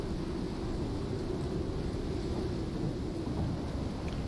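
Rainstorm with rumbling thunder in the survival video game Icarus, a dense, continuous roar of heavy rain with deep low rumble throughout, steady and loud with no talk.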